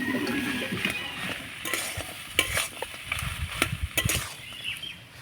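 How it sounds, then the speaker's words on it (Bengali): Potato filling being stirred and fried in a pan for pumpkin-leaf roll pakoras, with steady sizzling under repeated scraping and clinking strokes of a utensil, close and moderately loud. "এবার সব কিছু ভালো করে নাড়াচাড়া করে কষিয়ে নেব।"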